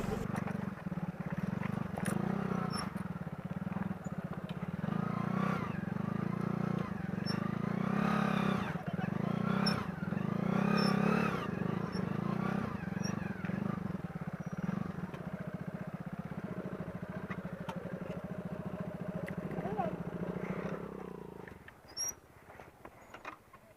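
Motorbikes grind up a steep mountain trail in Toli Peer forest in Kashmir, a steady labouring engine drone with revving swells, close and continuous for about twenty seconds before cutting away, with faint voices at times.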